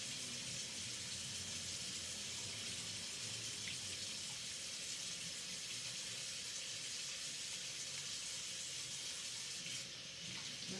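Tap water runs steadily into a sink during handwashing with soap, a continuous broadband rush that stays loud and even throughout with no talking over it.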